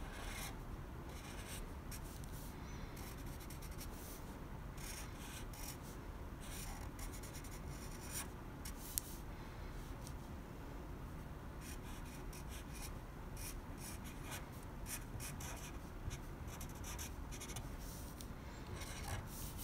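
A drawing tool moves steadily across paper, making a continuous close, dry scratching and rubbing that holds at an even level for about twenty seconds, with one brief tap near the middle.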